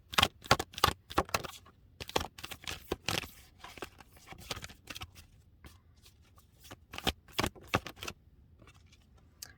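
Tarot cards being shuffled by hand, close and crisp, in quick riffling bursts with short pauses between them, with no talking.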